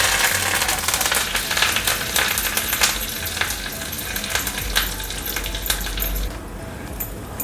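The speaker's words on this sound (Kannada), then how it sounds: "ಇವಾಗ ಜೀರಿಗೆ ಹಾಕೋತಾ ಇದ್ದೀನಿ, ಚೂರು ಹಾಕ್ತಾಯಿದೆ, ಕರಿಬೇವು ಹಾಕ್ತಾಯಿದ್ದೀನಿ." Cumin seeds and curry leaves hit hot coconut oil for a Kerala-style avial tempering, crackling and sizzling loudly and continuously up close.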